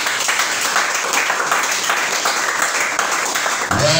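A church congregation applauds during a worship service, steady dense clapping filling the room for a few seconds before a sung note rises at the end.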